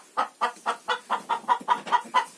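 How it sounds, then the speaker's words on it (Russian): A hen clucks in a steady run of about ten evenly spaced, nasal clucks, close and fairly clear with no voices. "Ну, как раскудахталась."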